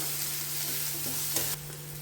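Onion and curry leaves frying in oil with cumin in a home kitchen pan, a steady soft sizzle with light stirring scrapes and a brief clatter near the end.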